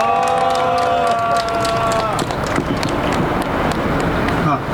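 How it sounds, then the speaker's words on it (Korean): At an outdoor candlelight rally, a crowd claps and cheers to welcome a speaker. A held musical tone fades out under the noise early on, and the applause carries on loud and dense. "힘찬 박수로 모시겠습니다."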